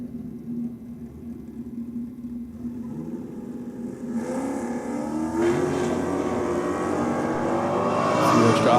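Holden Ute and Torana drag racing on a no-prep strip, engines building from a steady rumble into a loud rising roar as they launch off the line, growing louder toward the end.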